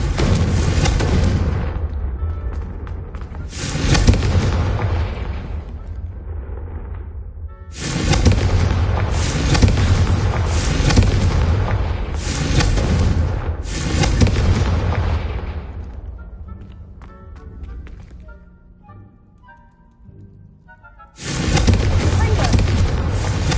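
Confringo blasting spell in a Hogwarts video game, heavy booming explosive bursts that roar for several seconds each, loud and close, repeating with brief quieter gaps between them.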